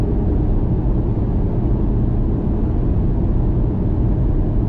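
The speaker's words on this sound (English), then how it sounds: "the noise you hear in the background, it sounds like a petrol engine running on a low gear" Steady low droning cabin noise from a Mazda MX-30, resembling a petrol engine running in a low gear, continuous and fairly loud with no talk.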